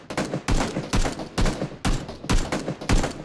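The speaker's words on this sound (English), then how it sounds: "You're shooting in a different direction than we are" Rapid bursts of gunfire in a shooter video game crackle loudly and continuously, several close-sounding volleys following one another in quick succession.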